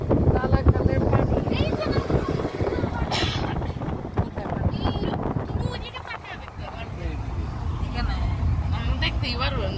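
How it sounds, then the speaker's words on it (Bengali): Wind rushing in through an open car window during a drive near Jaflong in Sylhet: a low, buffeting rumble that rises and falls under people talking. "বাইরের এই বাতাসটা আমাদের অনেক বেশি ভালো লাগে"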